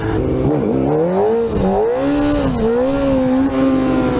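A Honda F4i stunt motorcycle revs hard and close, its engine pitch climbing and dipping through several throttle blips before holding a strained, high, continuous whine.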